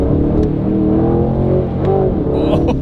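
Aston Martin Vantage Roadster on snow tyres revving hard, a loud, close engine note rising and falling in steady sweeps with a few sharp blips near the end.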